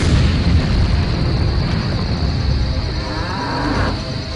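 A loud, sustained boom from a cannon fired at a cow in the PC adventure game Buried in Time, a dense rumbling roar that slowly fades, with a low mooing under it.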